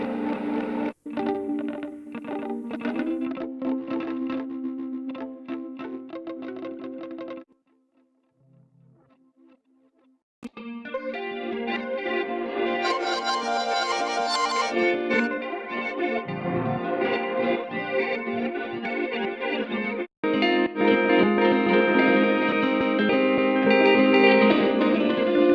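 Layered, shimmering tones processed by the Output Portal granular effect ring out with heavy reverb and echo. They drop to near silence midway before swelling back as a dense, grainy textured wash.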